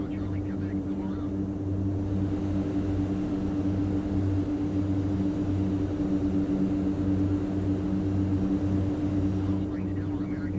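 Mitsubishi MU-2 turboprop engine in a flight simulator game: a steady, loud droning hum with a strong tonal whine that holds constant and even throughout, with no change in pitch or level.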